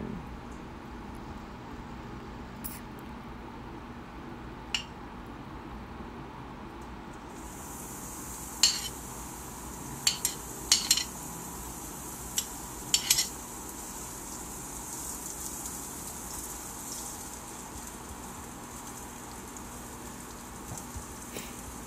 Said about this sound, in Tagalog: Start na po tayo magsote ng garlic, onion,